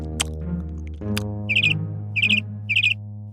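Bird tweeting in three quick, bright chirping bursts spaced about half a second apart, heard over a steady droning tonal background with no talk.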